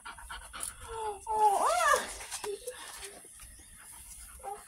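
A pet dog named Caesar panting softly and quickly nearby, with a short whiny vocal sound in the middle and light household noise in the background.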